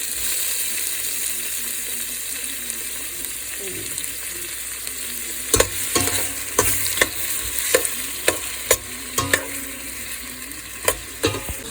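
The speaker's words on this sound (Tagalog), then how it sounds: "Prito ko na rin yung ating merguez at ang ating chorizo." Merguez and chorizo sausages fry in a pan with a steady hiss and sizzle, joined midway by repeated sharp clicks and taps of a utensil against the pan, close and without talk.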